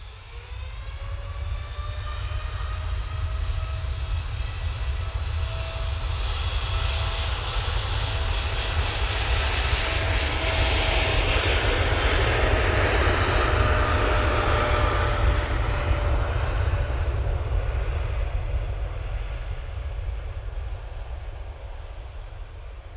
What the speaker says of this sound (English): TUI. (787-9) Dreamliner going off to Paphos now.